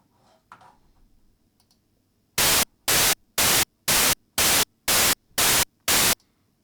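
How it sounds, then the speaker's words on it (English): Eight short bursts of harsh white noise from a synthesizer's noise oscillator, shaped into a hi-hat sound, evenly spaced and loud, following a brief quiet stretch with faint clicks. "We have access to a noise wave in oscillator 1."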